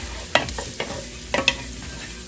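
Chopped onion cooks in a pan over medium-low heat with a soft, steady sizzle, broken by a few close, sharp scrapes and taps of a utensil stirring it.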